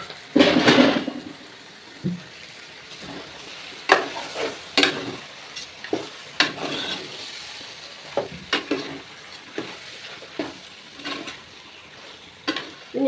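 Chicken frying with sautéed onions in a pan for a chicken curry, a quiet sizzle broken by bursts of stirring and spatula scrapes at irregular intervals.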